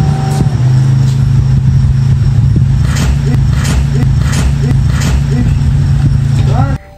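An old Nissan Pathfinder 4x4 with overheating issues on a road test: a loud, steady engine drone with a low hum and light rattles throughout, cutting off abruptly just before the end.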